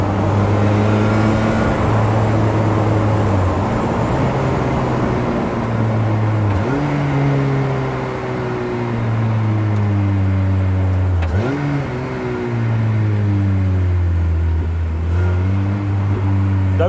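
An Ariel Nomad car drives at speed, its engine droning loud and close throughout, with repeated gear shifts where the pitch drops and climbs again as it accelerates.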